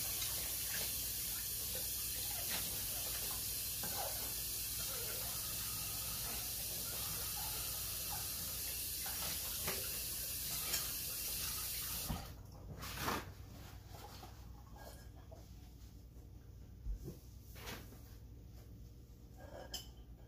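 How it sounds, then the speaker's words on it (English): Water from a kitchen tap sprays and hisses steadily into a bowl being rinsed, then shuts off partway through, leaving quiet drips and light handling clatter. "Rinse your bowl out."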